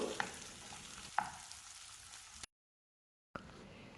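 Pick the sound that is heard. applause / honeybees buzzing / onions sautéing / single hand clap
onions sautéing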